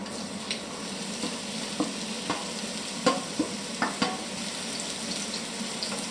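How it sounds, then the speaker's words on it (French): Onions fry in oil in a pan over medium heat for ratatouille, a constant soft sizzle with occasional light taps and scrapes of stirring, close and steady without talk. "On met les oignons."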